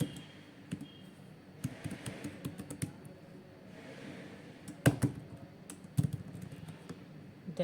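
Typing on a computer keyboard, with irregular bursts of key clicks and a few sharper taps, quiet and close with no talking.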